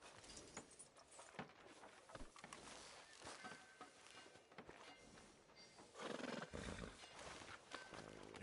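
A horse in the video game Red Dead Redemption 2 on PS4 whinnies and snorts over clip-clopping hooves and game ambience, growing louder and busier toward the end.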